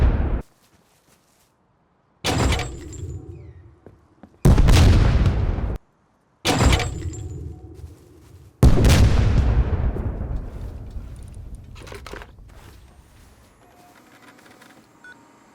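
Explosives hitting a building in the survival game Rust: four loud blasts at irregular intervals with silent gaps between, the last booming and slowly rumbling away over several seconds.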